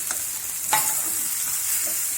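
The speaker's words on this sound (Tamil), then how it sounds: "இதில் நம்ம இந்த மிக்ஸ் பண்ணி வச்சுருக்கிற சொராவை இதில் போடுறோம்." A shark mixture sizzles softly in a pan with sautéed curry leaves and coriander, with a single sharper scrape of stirring partway through and a faint steady hiss; no talking.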